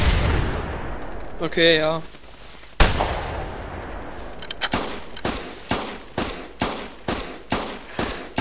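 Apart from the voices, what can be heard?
rifle gunshots in the video game The Hunter, goose hunting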